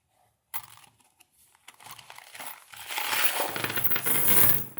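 SUNKIN stainless steel 304 bi-metal self-drilling hex-head screws being handled, heard as a brief clink followed by a growing, dense metallic rattle and clatter of many small screws shifting together, close by and with no talking.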